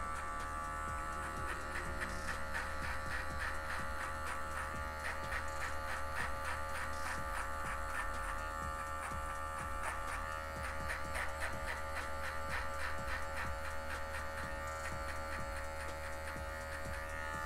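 A hair clipper set to zero buzzes continuously and close up while fading a haircut, its steady hum broken by a rapid, rhythmic flutter as the blade passes through hair.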